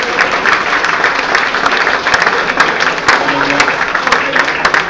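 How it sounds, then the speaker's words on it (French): A crowded audience at the Salon Athéna 2017 evening show claps loudly and steadily in a dense, continuous wash, with faint voices mixed underneath. "Allez, on les applaudit très fort"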